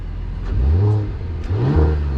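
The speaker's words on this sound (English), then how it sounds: "Now let's listen to the sound from the engine." A 2021 Mercedes-AMG GLE 53 4MATIC+ SUV in Sport Plus mode revs twice in quick succession, each blip rising and falling as a deep, close engine roar with no voices over it.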